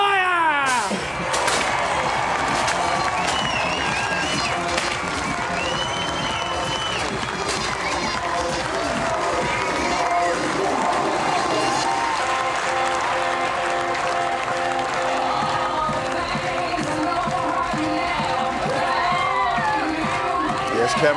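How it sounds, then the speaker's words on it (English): Big Aussie crowd cheers and applauds the winner of the 2011 Santos Tour Down Under cycling race, a broad steady roar of clapping and voices with a public-address voice over it throughout. "Big Aussie cheer for the winner"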